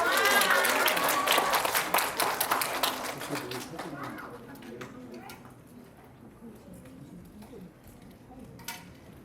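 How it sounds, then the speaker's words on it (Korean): A concert audience at a winter camp event applauds: loud dense clapping at the start that gradually thins and fades to scattered claps, with faint voices underneath. "박수!"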